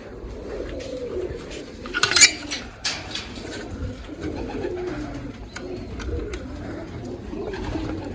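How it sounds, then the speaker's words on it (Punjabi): Pigeons coo softly at a steady low level through the stretch, with a few brief clinks and rustles near the middle, while grain is scattered for them at a home pigeon loft. "ਕਬੂਤਰਾਂ ਨੂੰ ਦਾਣੇ ਪਾ ਦਈਏ"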